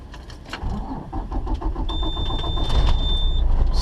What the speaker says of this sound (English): Started my truck.